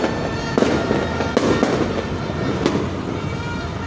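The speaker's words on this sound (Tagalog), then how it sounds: "Maganda kasi dito, kita-kita natin mga fireworks." New Year fireworks seen from a house rooftop, with a dense continuous crackle and several louder pops and bangs over steady background noise.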